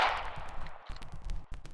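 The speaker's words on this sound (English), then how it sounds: "I just made my way past heavy gunfire, as you probably just heard" Sharp cracks of heavy gunfire in a war video game ring out in a rapid, irregular burst, with several distinct shots close together over a short stretch.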